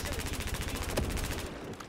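Rapid automatic gunfire in the video game Battlefield 4, a fast regular burst of sharp shots close and loud for nearly two seconds with one heavier report in the middle.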